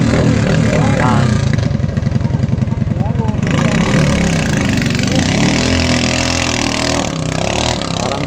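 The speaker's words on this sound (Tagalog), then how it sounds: "Parang diesel ang makina, mausok." Racing kart engine at a national race testing session, running rough and chugging like a smoky diesel, loud and close with pulsing idle and revving, while people talk over it.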